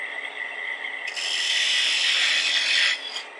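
A chisel on a wood lathe parts off a small turned wooden piece, giving a steady, close, rasping scrape that grows louder and brighter midway and then eases off as the cut finishes.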